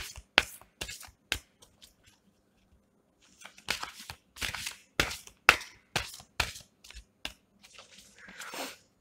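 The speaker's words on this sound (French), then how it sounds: "On y va, on va tirer une troisième carte pour conclure." Tarot cards are shuffled and drawn by hand, giving close, crisp slaps and riffling bursts in quick irregular clusters, a brief quiet pause, then more rapid flicking and rustling.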